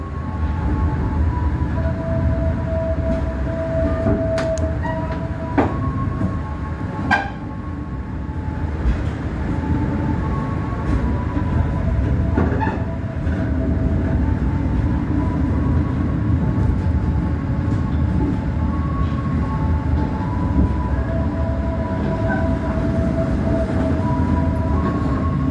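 Inside the KA Mutiara Timur economy-class passenger train, a constant low rumble of the carriage in motion carries on throughout, with occasional sharp clicks and rattles rising briefly above the steady drone.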